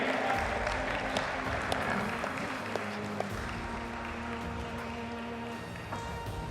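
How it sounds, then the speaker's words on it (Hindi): Steady, dense applause from the audience at a poetry and music evening, sustained at an even level for several seconds with a few sharper claps standing out, no speech over it. "एक बार जोरदार तालियां हो जाएं"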